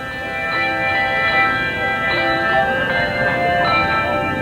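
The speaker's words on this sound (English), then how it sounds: "ringing the bells and playing Christmas carols" A handbell choir plays Jingle Bells, bright ringing bell tones layered into a sustained melody, many notes chiming together with soft overlapping strikes, steady and fairly loud.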